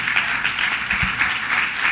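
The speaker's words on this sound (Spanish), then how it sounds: "le podemos dar un aplauso al Señor" Rhythmic clapping from a church congregation during a bilingual Spanish-English sermon, brisk and even, filling the space with a moderately loud, continuous patter.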